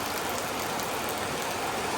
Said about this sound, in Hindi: सी बहुत तेज बारिश हो रही है, बहुत तेज।